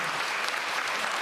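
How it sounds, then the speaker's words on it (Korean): Audience at a Busan town hall meeting breaks into applause, a dense, even wash of clapping that fills the whole short moment with no voices over it. "맞으면 박수를 치셔야 됩니다."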